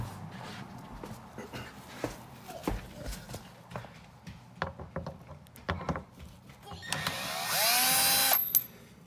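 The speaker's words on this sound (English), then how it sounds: "you just need to take them off with a cross drill bit" Scattered clicks and handling knocks while removing small screws on a 2021 Toyota Sienna, then a brief high-pitched whir of a small power drill with a cross bit running for about a second near the end.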